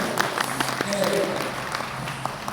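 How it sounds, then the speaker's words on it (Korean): Brief scattered applause from a seminar audience, a short patter of clapping beneath a speaking voice. "박수까지 나왔습니다"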